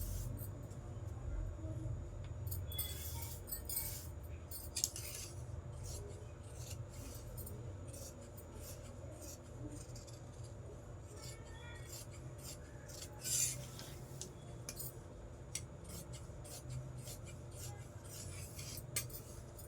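Quiet, steady rasping and snipping of scissors cutting fabric along marked measurements, with faint scrapes and occasional brief louder clicks over a low background hum.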